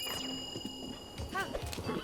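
Hooves clip-clopping at a gallop on a horse in the Zelda: Breath of the Wild horse minigame, with a whinny and game music tones, loud and close under a speaking voice.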